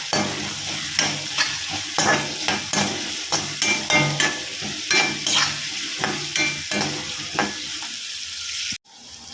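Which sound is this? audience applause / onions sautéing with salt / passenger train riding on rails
onions sautéing with salt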